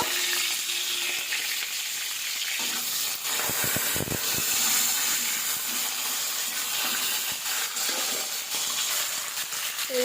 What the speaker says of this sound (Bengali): সিমটা দিয়ে দিচ্ছি, সিমটাও একবার ভেজে তুলে নেব।